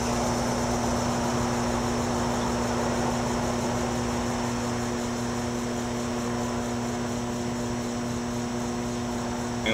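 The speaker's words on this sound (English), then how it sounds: "we're just going to turn the speed control down until it's barely moving" An electric motor on a small machine hums steadily nearby, its speed turned down to a slow crawl, giving a constant even drone with no voices.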